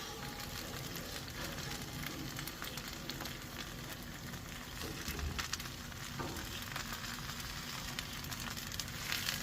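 A chicken taco, folded over and crisping in a hot pan, sizzles and crackles continuously at close range, a soft, even frying hiss with no talk over it.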